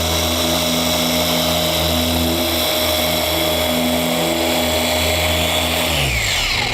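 A pad polisher buffs a hood panel from a 2006 Ford Mustang, its steady motor whine droning loud and continuous before winding down as the pad slows toward a stop near the end.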